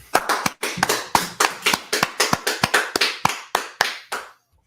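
A street gathering in Washington DC claps in a quick, steady rhythm, with about twenty sharp, close claps in unison before the sound stops abruptly.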